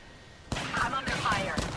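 Call of Duty gunfire, a dense rattle of rapid shots that kicks in abruptly after a brief quiet moment and continues steadily, mixed with voices.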